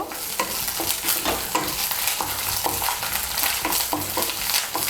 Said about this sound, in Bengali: আদা বাটাটাকেও মিশিয়ে নেব তেলের সঙ্গে। মিশিয়ে নিয়ে একটু ভেজে নেব।